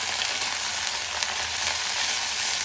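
Vegetables for a Karnataka-style donne biryani sizzle and fry steadily in a pan, with a loud, continuous, even hiss and no talking.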